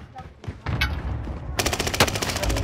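Rapid automatic gunfire erupts in a shooter video game, starting with scattered shots and rising into a loud, sustained burst of shots.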